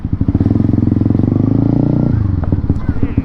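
A Honda CB motorcycle with a homemade exhaust rides in to park, its engine a loud, close, steady rumble that drops in pitch and pulses unevenly as it slows near the end.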